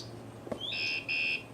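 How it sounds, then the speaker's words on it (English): A short electronic bicycle alarm chirps: a rising beep followed by two steady high-pitched buzzes, fairly close, over quiet background hum. "I have the remote for the bike alarm in here that I carry"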